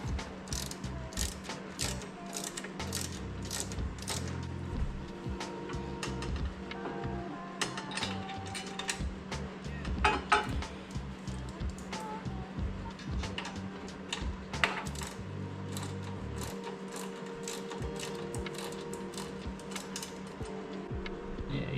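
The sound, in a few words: ratchet tightening bolts on motorcycle crash bar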